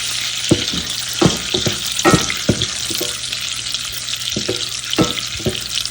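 Steady loud sizzling of finely chopped garlic frying in hot oil for dal makhani, with scattered clicks and taps of a utensil against the pan.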